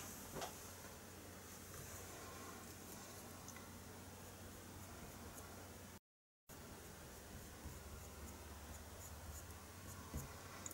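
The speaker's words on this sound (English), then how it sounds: "Let's erase that a bit." Soft, faint scratchy rubbing of an eraser working over part of a pastel drawing of an Arabian horse, a steady quiet friction with a brief gap midway.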